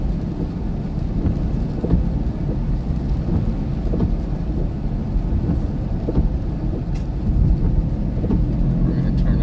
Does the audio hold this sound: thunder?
yes